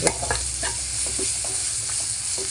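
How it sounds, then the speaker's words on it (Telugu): Small-fish curry sizzles steadily in a pan as turmeric and coriander are stirred in, with a ladle scraping and tapping in quick irregular strokes close up. "పసుపు వేసుకొని కొంచెం కొత్తిమీర వేసుకుందాం. వేసుకొని కలుపుకుందాం."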